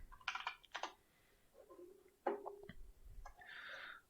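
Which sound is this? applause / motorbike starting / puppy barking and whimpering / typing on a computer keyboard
typing on a computer keyboard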